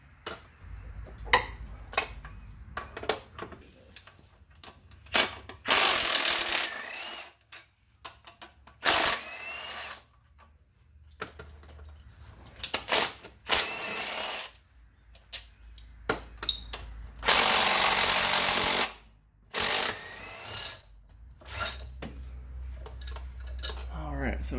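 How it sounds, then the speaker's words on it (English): Power tool whirring in loud bursts, removing bolts during a Honda Civic automatic transmission removal, several separate runs with rattling and clinking between them, close by. "And then we'll use our power tool."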